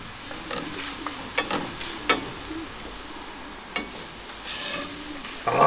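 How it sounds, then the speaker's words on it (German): Minced meat sizzles and fries steadily in a pan on a wood-fired kitchen stove for chili con carne, with several scraping stirs and clacks of the spoon, close and fairly loud, no talking. "Das Hackfleisch, das brate ich jetzt so lange, bis es schön krümelig ist"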